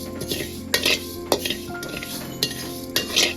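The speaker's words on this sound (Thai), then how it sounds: "คั่วข้าวคั่วครับข้าวเหนียวหน่อยหนึ่งครับ" Sticky rice dry-roasting in a pan for toasted rice powder, with a utensil scraping and stirring against the metal in a few sharp clinks over a steady low hiss, close up and with no voices.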